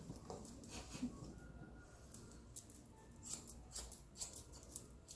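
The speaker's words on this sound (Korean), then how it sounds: "그래서 이렇게 커트를 해서 잘라줍니다." Faint, quick snips of scissors cutting hair in a salon setting, a few soft clicks close by against a quiet background hiss.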